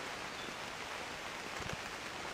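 Steady rain falls during a humid summer hike while sheltering under a hemlock tree, a soft continuous patter filling the air with a few slightly louder drops near the end.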